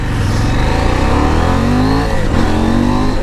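A 2019 KTM 790 Adventure motorcycle engine revs up loud and close as the throttle comes back on, its pitch climbing steadily over steady road and wind noise.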